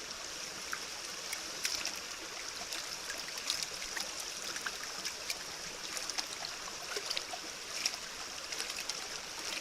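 Water swishes and trickles in a gold pan as fine sediment is washed, making a faint, continuous wet rushing with small splashy accents and no voices.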